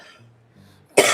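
A single sharp cough bursts out close and loud at the end, after a brief stretch of faint low hum.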